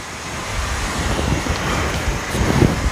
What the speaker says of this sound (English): Now we are steaming.